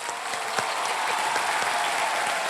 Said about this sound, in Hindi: आप लोग सब खड़े होके इनके 1 रुपए के लिए ताली बजाएंगे